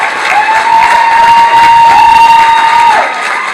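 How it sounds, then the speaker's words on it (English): Loud applause and cheering from a crowd honoring Janelle Richardson at a news event in Sint Maarten, sustained and dense with a steady high tone running through it, tapering off at the end. "please give her a round of applause"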